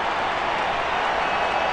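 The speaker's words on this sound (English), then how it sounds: "Big crowd coming up full roar here" A stadium crowd at a baseball game roars and applauds in a dense, loud, continuous wash of cheering and clapping, steady for the whole short stretch.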